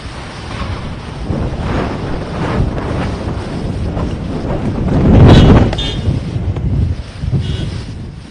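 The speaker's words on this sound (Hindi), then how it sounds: "तेज हवाएं चल रही हैं।" Strong winds of Cyclone Nisarga at Alibag roar and buffet the microphone continuously, with surging gusts and a rough rushing sound like surf underneath.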